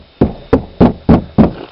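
Knocks on a Jeep Cherokee door panel fitted with sound deadener: five firm, dull thuds at an even, steady pace, close and loud with no talking.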